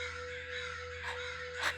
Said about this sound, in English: And the crows are joining us right now.